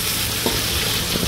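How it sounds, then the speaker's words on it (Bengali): Oil for a dal tempering (baghar) sizzles and fries steadily in a wok, a loud, continuous crackling hiss close by. "এখন ডালের জন্য বাগার দিব"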